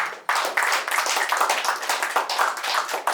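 Listeners at a Hindi poetry gathering clap for a poet in a brisk burst of close, crisp handclaps with a slightly uneven rhythm, loud and unbroken for about three seconds.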